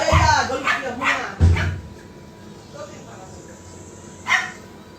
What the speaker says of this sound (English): Gaya, dirty dog